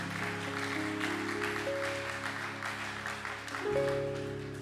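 Church congregation clapping together in praise of Jesus, a steady sustained wash of applause filling the hall, with organ or keyboard chords sustained underneath.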